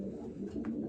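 Racing pigeons from a breeding loft coo in a low, soft murmur, close by and steady through a brief stretch, with no talking.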